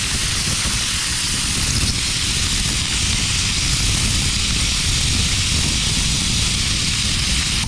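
Compressed air blasts from a homemade brake-line nozzle on a quick coupler, a loud, steady, broad hiss and roar that stays constant throughout with no talking.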